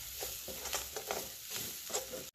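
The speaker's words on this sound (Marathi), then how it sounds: "मसाले जरा तेलामध्ये चांगले परतून घ्यायचे" Spices such as coriander powder stirred and frying in hot oil, a continuous close sizzle with soft scraping strokes, no talking.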